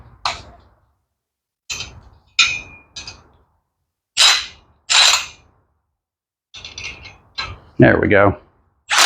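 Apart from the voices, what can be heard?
tightening a bolt with a wrench on a toy scooter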